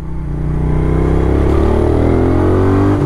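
A Moto Guzzi V7 Racer motorcycle engine rumbles up from idle, its pitch rising gently as it pulls away slowly, close and loud.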